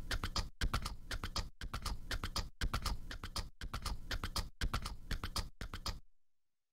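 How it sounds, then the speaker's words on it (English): Rhythmic horse clip-clop beat from the music game Incredibox, looping steady hoof-like clops in short bursts separated by brief gaps, loud and close with no voices over it. "Sound like a horse."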